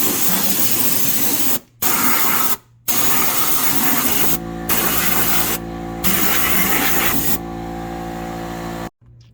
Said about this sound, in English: this nozzle hooked up to an air compressor. So we're just gonna kind of lightly blow all this out.